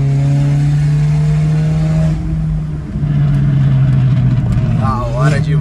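A remapped VW Golf 1.4 TSI engine drones loudly and steadily, dips briefly, then revs up in quick rising sweeps near the end.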